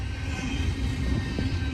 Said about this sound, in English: by the time the end of the train goes by, it has sped up quite a bit